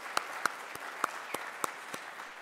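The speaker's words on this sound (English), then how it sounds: "Let's give ourselves a round of applause." Scattered applause from an audience at a school National Signing Day celebration for student athletes, a handful of distinct claps at irregular intervals, fairly faint and distant with no talk.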